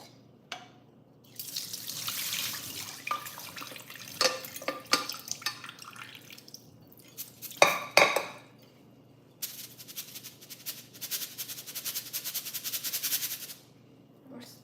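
Tap water runs into a kitchen sink in bursts, starting and stopping several times, with splashes and a clink of dishes near the middle; fairly close and moderate in level, no talk.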